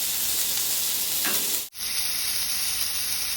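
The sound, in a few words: lamb keema burger patty sizzling as it is flipped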